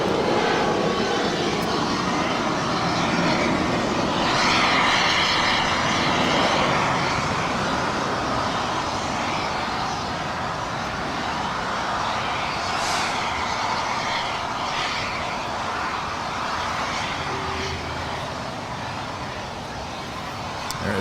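A JetBlue Airways jet airliner departs Los Angeles International Airport bound for Las Vegas, a loud sustained engine roar swelling and then gradually easing, with faint voices in the background.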